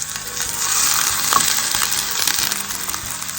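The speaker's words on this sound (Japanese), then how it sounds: "ここからはじっくり火を通していきますので、蓋をして蒸し焼きにします。" Cabbage steak sizzling in a pan with a lid on, steaming in its own moisture; a steady, fairly loud hiss with faint crackles and a soft tap.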